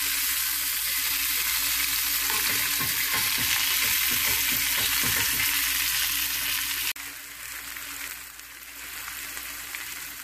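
Lobster searing in a hot pan gives a loud, steady sizzle and crackle that runs unbroken, then drops slightly softer for the last few seconds, with no voices.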